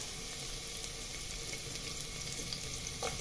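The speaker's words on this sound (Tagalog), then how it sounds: "And then, pwede na rin natin ilagay ang ating garlic." Garlic dropped into a pan with ginger sizzles steadily in hot oil, a close, continuous crackling hiss while cooking pork liempo sinigang.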